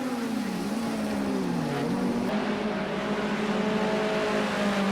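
Mitsubishi Lancer race cars in Project CARS 2, a loud, continuous engine drone whose pitch sweeps and shifts as the cars accelerate and lift through a corner, with no talking.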